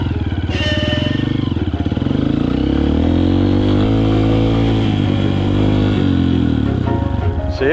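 A dirt bike engine fires up and is worked with the throttle, a loud close buzzing idle that swells and wavers as the revs rise and dip, running continuously throughout.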